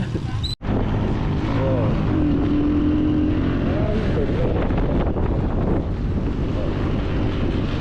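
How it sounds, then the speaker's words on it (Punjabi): Cold wind batters the microphone during a mountain bike ride in the Naran Kaghan hills, a loud continuous roaring gust with faint engine hum beneath. "ਠੰਡੀ ਹਵਾ ਹੈਗੀ ਆ"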